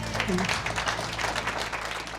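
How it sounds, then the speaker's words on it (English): An audience at a health fair panel applauds the panelists, a fairly faint, steady wash of clapping from many hands lasting a couple of seconds, with a voice briefly present near the start. "We would like to give our panelists a round of applause."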